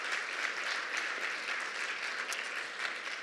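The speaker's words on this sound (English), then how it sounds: "So if everyone could give them another round of applause" An audience at an improv show gives a round of applause, an even, moderately quiet stretch of many hands clapping with no voices on top.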